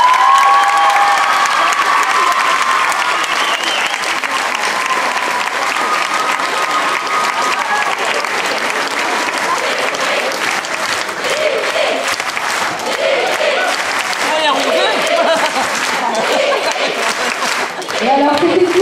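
Sustained applause from a large audience at a club gala parade, steady and dense for the whole stretch, with scattered cheers and a few voices mixed in.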